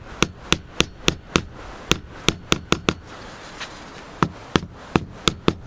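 A hammer drives a piece into a wooden radio cabinet with sharp, loud, close blows, struck in quick uneven runs of two to four hits with short pauses between them, and no talk over it.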